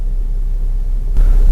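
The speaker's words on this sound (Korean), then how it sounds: "가솔린 차량 암레스트 콘솔은 어느 정도 소음이 측정이 될까요?" Low, steady engine rumble inside a gasoline Kia Carnival (Sedona) minivan, heard at the armrest console while idling, a constant deep hum that swells slightly louder near the end, with no talking.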